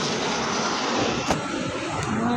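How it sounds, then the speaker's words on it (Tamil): Helicopters pass over Air Force Station Tambaram, a broad steady roar of rotors and engines filling the air, loud and continuous with slight swells. "ஹெலிகாப்டர் மட்டும் 100 போயிருக்கலாம்."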